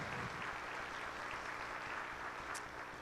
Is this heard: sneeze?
no